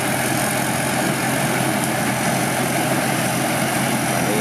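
A rice combine harvester with a stainless steel grain tank idles nearby, its engine giving a steady, loud, broadband drone with no breaks and no speech.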